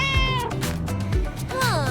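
A cat meows repeatedly, close and loud, with several drawn-out calls over a steady background, in a cartoon-style scene about a cat in a basket.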